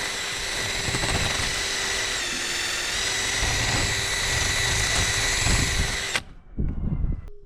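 A power drill bores a hole through the body of a Ford Transit campervan for an antenna, whining loud and steady for about six seconds before stopping abruptly, followed by a few faint clatters.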